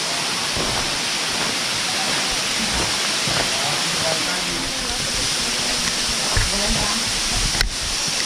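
Constant hissing rush of a nearby waterfall in a grotto with a chapel in Doutor Ricardo, Rio Grande do Sul, with faint indistinct voices mixed in and a sharp click near the end.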